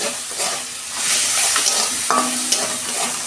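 Ginger-garlic paste and a green chili hit hot oil with browned onions and sizzle loudly, a close, bright hiss broken by stirring scrapes and a few spatters.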